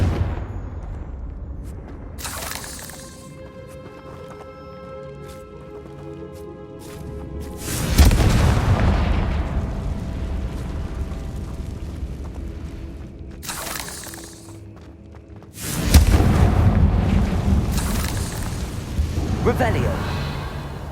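Fiery Confringo spell blasts from the Hogwarts Legacy video game, with a loud booming burst around eight seconds and another around sixteen, each leaving a rumbling tail, over steady game ambience and a voice.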